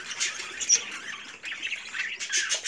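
Budgerigars in a double breeding cage squawk and chatter continuously, a dense flurry of overlapping harsh, shrill calls at close range with no voices.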